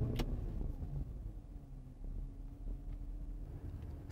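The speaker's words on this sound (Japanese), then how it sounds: "ではエンジンを始動していきます。" A 2015 Porsche Cayenne Turbo (Type 958) with Sport Chrono package starts its engine: a short burst at ignition, then a faint, steady low idle rumble with no talking.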